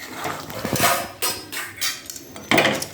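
Cooked rice is served out of a cooking pot in a home kitchen, with a series of clinking metal scrapes and knocks from a utensil against the pot, arriving in uneven bursts at close range.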